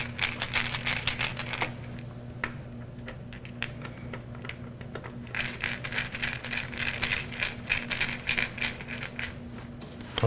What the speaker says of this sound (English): We can start tightening it down. Just go until the screw stops.